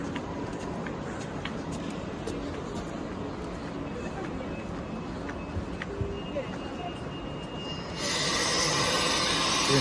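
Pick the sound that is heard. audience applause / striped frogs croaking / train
train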